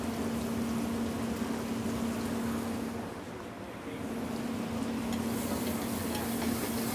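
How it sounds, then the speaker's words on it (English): Garlic and butter gently sizzling in a pan over lowered heat, a steady soft frying hiss with a faint hum running underneath, continuous throughout. "Just brown the garlic and the butter slightly."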